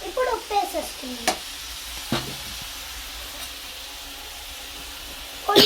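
Brinjal (eggplant) fries with salt in a pan, giving a low steady sizzle with a few sharp pops and stirring clatters. The sounds are close, and a brief voice is heard at the start.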